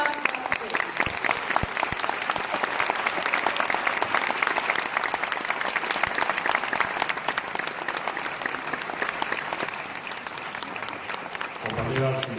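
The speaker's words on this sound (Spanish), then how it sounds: "Les pido a todos ustedes un aplauso para el maestro Fernando Sabater" A large university audience gives sustained applause for the philosopher Fernando Savater: a dense, steady wash of many hands clapping that holds at an even level for about twelve seconds, then thins slightly at the end.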